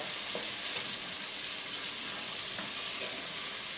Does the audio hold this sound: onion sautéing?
yes